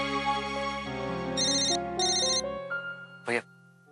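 A telephone ringtone plays during an outgoing call, an electronic melodic tune with bright repeated tones that ends in a short high burst, fairly close and clear, with no talking over it.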